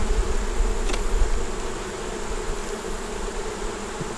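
Honey bees buzzing around an open hive box during a hive inspection, a continuous close droning hum with slight swells, no voices.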